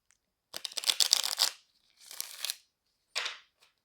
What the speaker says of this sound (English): Just gonna shuffle the cards.